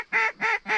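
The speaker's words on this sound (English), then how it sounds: "Dude, there's so many ducks." Mallard ducks quack three times in a steady, evenly spaced series during a duck hunt, each call a loud, nasal honk close by with short gaps of quiet between.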